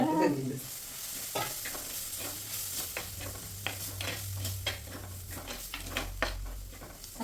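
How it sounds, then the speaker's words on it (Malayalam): Prawns with turmeric and chilli powder are stir-fried in a pan, with a steady sizzle under repeated scraping and stirring strokes close by. "പച്ചമണം പോണ വരെ വയറ്റി വയറ്റി കൊടുക്കുക"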